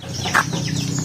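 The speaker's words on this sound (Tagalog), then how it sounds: "yung ating 56 na piraso ng mga palakihing manok" Native chickens being raised on a farm, with soft clucking and a brief sharper call over a steady low murmur of the flock.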